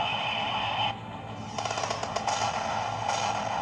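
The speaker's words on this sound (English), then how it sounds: "Let's go ahead and call in an airstrike." An airstrike called in during the mobile shooter Gun & Blood lands as a faint rattle of rapid explosive bursts and crackling blasts over a steady background hum, brief and somewhat distant.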